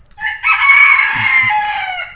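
A rooster crows loudly and close by in one long, drawn-out call, with faint low clucking beneath it.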